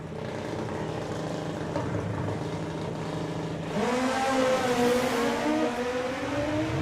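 Drag racing cars roar down the strip at a sportsman nationals event, a loud sustained engine drone that climbs in pitch and intensity as they accelerate away.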